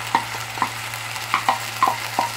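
Washed rice goes into a hot pan with browned aromatics and gets stirred, giving a low frying sizzle with several soft scraping, rustling bursts spaced about half a second apart and close by.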